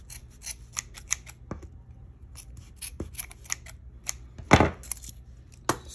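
Sharp scissors snip through yarn while making a pom pom, giving a series of quick, crisp close-up cuts in irregular bursts. One louder, heavier snip stands out near the end, with no voices.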